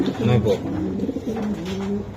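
Racer pigeons coo in low, throaty, rolling calls close by, one drawn-out coo after another, with voices talking over them.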